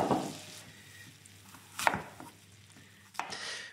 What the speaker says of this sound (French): Là, je coupe mes pommes en quartier.